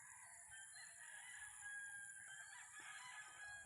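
A rooster crows far off, faint against a steady backdrop of foggy outdoor ambience and other birds.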